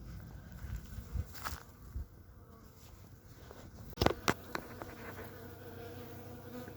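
Honeybees from a newly delivered five-frame nucleus colony hum steadily at close range, with a few louder buzzes as single bees fly past near the ears, plus light footsteps and rustling.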